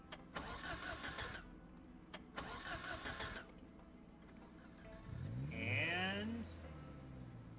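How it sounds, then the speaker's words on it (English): Hotwired car engine in a video game cranking and catching after rustling and clunks, then a rising rev that settles near and loud. "So Lucas attempts to hotwire the engine."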